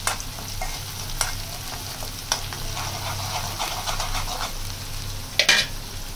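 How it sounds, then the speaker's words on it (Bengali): Chopped drumstick stems or vegetables stirred in a frying pan over steady oil sizzle until browned, with spatula scrapes recurring every second or so and a sharper clatter near the end, close and continuous. "যতক্ষণ একদম বাদামি কালার না হবে ততক্ষণ লাড়তে থাকবো।"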